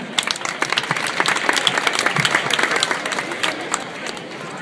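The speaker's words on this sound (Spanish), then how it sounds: "Fuerte aplauso también para Ignacio." Strong, sustained crowd applause at the Agrupación Deportiva Alcorcón new jersey presentation as a sports director is welcomed to the stage. The clapping is loud and even throughout, then eases slightly at the end.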